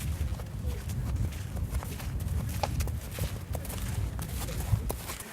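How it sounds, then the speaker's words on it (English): Black horse walking during a hippotherapy session carrying a mother and a young girl, its hoofbeats a steady, close clip-clop over a soft outdoor background. "On this black horse on Zelda is mother with little girl"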